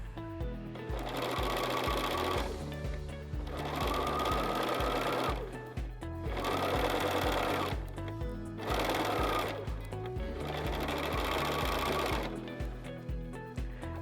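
A sewing machine stitches a rolled hem on fabric in five rapid, even bursts of mechanical chatter, each a few seconds long and separated by short pauses, heard close and at moderate volume.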